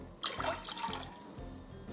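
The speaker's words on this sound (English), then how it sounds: "Today I'm going to add some water" Water poured into a pot for dashi while making doenjang bibimbap, a short splashing, trickling pour up close, heard alone without talk.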